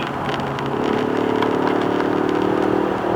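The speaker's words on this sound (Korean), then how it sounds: "토해내는 그런 엔진 사운드가 제법 힘찹니다" A Ford Mustang engine, smaller than the 5.0, revs up with a loud, throaty roar that climbs to around 4,000–5,000 rpm and holds steady for a few seconds, close and alone.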